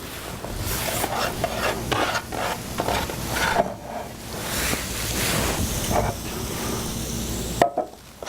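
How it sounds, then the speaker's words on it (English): Julienned butternut squash sizzling in a hot pan, a continuous crackling fry with repeated stirring swishes and scrapes, close up and without talking, ending in a brief clatter. "And I'm going to add to the pan my julienne butternut squash."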